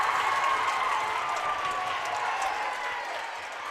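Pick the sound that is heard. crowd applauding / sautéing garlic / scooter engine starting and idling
crowd applauding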